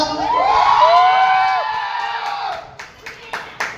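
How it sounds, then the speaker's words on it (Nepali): Crowd at a cultural dance battle held by a dance academy whoops and cheers with long rising calls, then breaks into scattered bursts of clapping toward the end. "सबैजनाले ताली बजाइदिनु होला"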